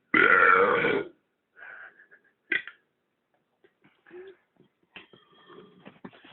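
One loud, long burp opens, then quieter throaty gurgles and small belch-like bursts follow with pauses in a quiet room.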